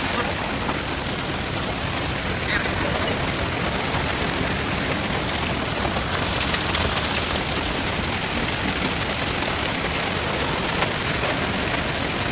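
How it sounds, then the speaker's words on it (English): Large hail pounds steadily on a truck, a dense, loud, unbroken roar of hard impacts lasting throughout without pause. "That's some pretty good size hail."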